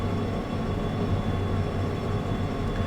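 Two locomotives haul a train up a steep hill in the Derail Valley train game, giving a steady, loud, low engine drone with a constant tonal hum throughout.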